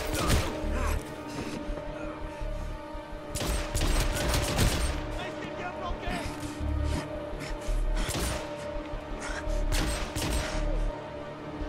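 Gunfire in the video game Hitman Absolution crackles in rapid bursts and scattered shots during a firefight, steady and fairly dense across the whole stretch, heard at moderate volume over game background noise.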